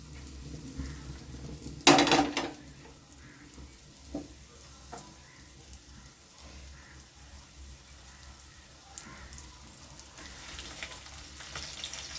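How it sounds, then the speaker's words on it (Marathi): Eggs for a dhaba-style egg masala curry fry in a pan over a low flame. A loud burst of sizzling comes early, then settles into a quieter ongoing crackle with occasional soft stirring knocks. "बारीक गॅस करून ही अंडी ना चांगली फ्राय करून घ्यायची"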